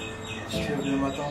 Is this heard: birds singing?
yes